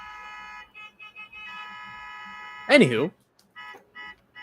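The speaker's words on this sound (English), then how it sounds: "ignore the honking" A car horn honks outside as a loud sustained blast with a wavering pitch, preceded by a steady tone and followed by short beeps, while a person talks over the background.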